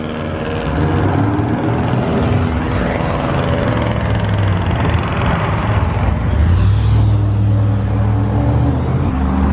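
A loud engine roars steadily throughout, rising in pitch and intensity as a vehicle accelerates hard nearby, with no talking.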